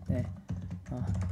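Computer keyboard keys clack in quick bursts while a coding exercise is worked on, with two short clusters of presses separated by a brief pause, close and fairly quiet, ending on what could be the Enter key.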